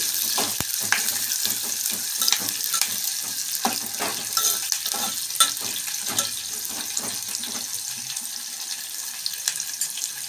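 Onions sizzle in oil in a pan with a continuous bright hiss, broken by scattered taps and scraping, close and alone with no talk.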